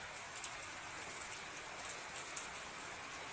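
Steady rain falls in a small garden, a dense continuous hiss of drops on surfaces that holds even throughout with no voices.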